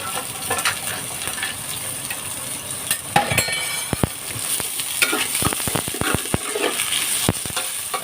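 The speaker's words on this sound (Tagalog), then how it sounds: "gigisa muna natin itong sibuyas" Onions and chili being sautéed in a pan for sinigang, a steady close sizzle with scattered sharp clinks and scrapes of a utensil against the pan.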